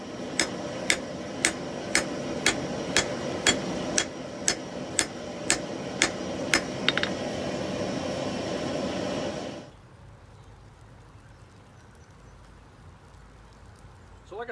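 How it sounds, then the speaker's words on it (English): A hammer forges a scrap Damascus steel billet flat, ringing out about a dozen evenly spaced, sharp metallic strikes over a steady roar, then the roar drops away into quiet. "let's forge this thing flat and see what happens"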